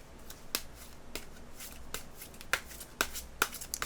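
Tarot cards are shuffled and drawn close up in a quiet room, giving soft riffling and a series of sharp card snaps and flicks spaced through the few seconds.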